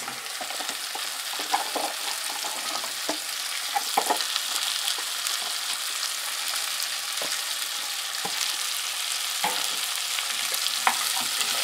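Squash and carrots fry with onions in a pan, giving a continuous soft sizzle broken by scattered clicks and scrapes as the vegetables are stirred, with no talking.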